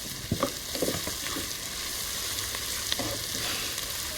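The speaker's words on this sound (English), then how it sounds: "So we're just gonna fry this off" Ginger and garlic sizzle in hot oil in a pan for a Nepalese-style chicken curry, a steady close crackle with a few scraping stirs and clicks near the start.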